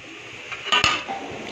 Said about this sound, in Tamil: இப்போ வாங்க மூடியை திறந்து பார்ப்போம் எப்படி இருக்குன்னு.